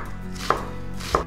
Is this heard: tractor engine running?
no